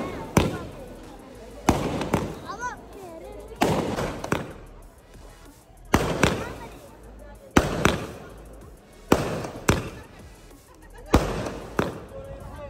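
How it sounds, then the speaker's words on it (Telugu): Firecrackers burst at a village church feast in Pedaparimi, about ten sharp loud bangs at roughly regular intervals, each followed by a short fading crackle. "సో అట్లీస్ట్ పండగ వాతావరణం ఇలా క్రాకర్స్తో కంప్లీట్ అయిపోయింది"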